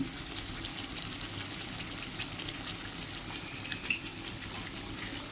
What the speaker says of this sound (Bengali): চিংড়িগুলো ছেড়ে দেবো। চিংড়ি ছাড়ার সাথে সাথে দেব হিং।